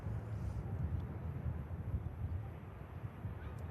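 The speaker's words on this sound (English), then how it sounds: "The ATR 72 just starting her takeoff roll." An ATR 72 turboprop airliner begins its takeoff roll, a faint, distant, steady low engine drone mixed with wind noise, rising only slightly over a few seconds.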